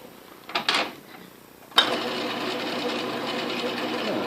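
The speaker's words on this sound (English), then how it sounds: "face of the nut seems to be turning pretty true" An Atlas Craftsman metal lathe turns a nut, a steady close mechanical whir that starts abruptly after a brief clunk and scrape, running continuously with no talking.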